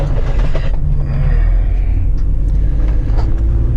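A Ford Transit van with a cracked intake manifold drives along, giving a loud, steady low rumble of engine and road noise with a few faint higher rattles, and no voices.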